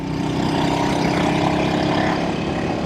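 A 1964 Velocette Venom Veeline Clubman motorcycle engine running steadily while riding in first gear, a loud continuous drone with a constant pitch.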